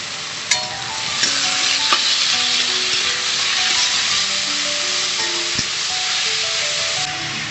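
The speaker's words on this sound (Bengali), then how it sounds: "পেঁয়াজ আর গাজর ভাজা হতে একটু টাইম লাগবে।" Chopped onions and carrots fry in a hot pan with a continuous bright sizzle, broken by a few sharp taps and clinks of a utensil stirring them, and no one speaking.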